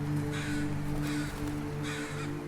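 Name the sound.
crow scold call, cawing at a crow funeral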